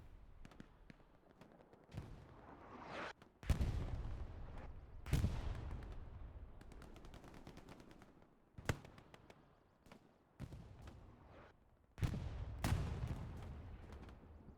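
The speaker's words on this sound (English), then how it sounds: "Artillery hitting in a good spot." Artillery shells land in a competitive video game match, several loud separated impacts, each a sharp crack fading into a rumbling tail, spaced a few seconds apart over a quieter background of distant firing.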